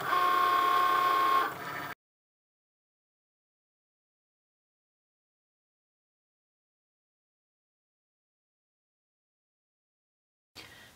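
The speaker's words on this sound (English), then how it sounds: "all the machine's going to do is just draw the shape" A Cricut Maker cutting machine draws a shape with a pen, making a brief whirring motor buzz with fast carriage movement that stops after about two seconds, followed by near silence.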